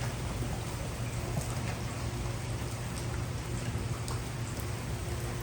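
Rain falls steadily on a rainy day, a dense, even hiss with scattered droplet ticks and no voices.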